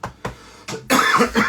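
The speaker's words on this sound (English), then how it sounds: "Chesty cough for some reason." A chesty cough, a few short bursts of harsh coughing in quick succession, close and fairly loud, ending in a longer rasping throat-clearing sound.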